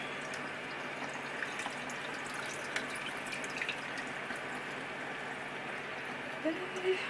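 Cooked quinoa rinsed in a strainer under running filtered water, a steady soft stream splashing into a sink with faint drips throughout and a few louder splashes near the end.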